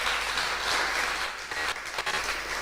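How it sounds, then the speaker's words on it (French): A small café audience applauds an evening guest, a steady patter of clapping of moderate loudness that thins out toward the end. "merci d'applaudir notre invité de ce soir"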